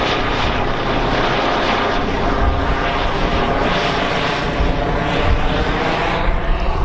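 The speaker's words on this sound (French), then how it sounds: "il y a l'hélicoptère qui arrive" A rescue helicopter arrives at a motocross race, its rotor and engine roar loud and continuous throughout, with steady rhythmic blade chop and no talk.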